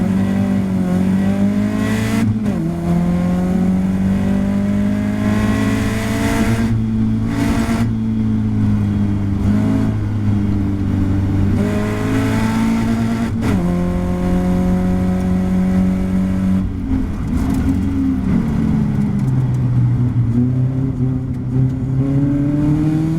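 Caterham race cars roar off the start at Brands Hatch in a championship round: loud, continuous engine drone with rising and falling pitch as gears change, several cars close together throughout.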